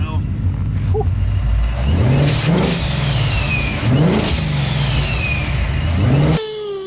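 A supercharged car engine revs repeatedly with rising whines, each rev ending in a sharp whooshing bypass-valve release hiss before the engine settles.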